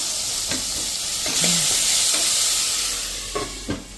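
A raw mango curry sizzles in a covered pan, a steady bright frying hiss running throughout with a few soft stirring knocks and scrapes, close and fairly loud.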